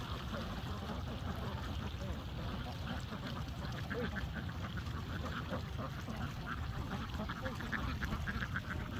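A flock of Khaki Campbell ducks at a duck farm quack and honk in a constant overlapping chorus nearby, with a voice faintly present beneath.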